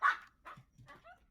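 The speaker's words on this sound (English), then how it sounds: "Dog." A dog gives a few short barks and yips, the first loudest, followed by softer whimpering calls, all close and alone with no talk.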